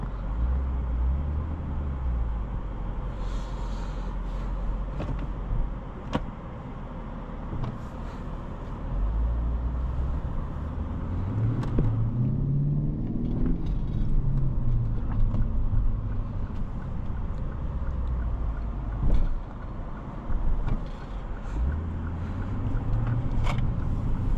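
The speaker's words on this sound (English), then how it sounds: "But let's drive this GSF now." Engine and road noise from a 2016 Lexus GS F being driven, with the engine note audibly rising and falling through the gears over steady tyre and wind rumble, heard from inside the cabin.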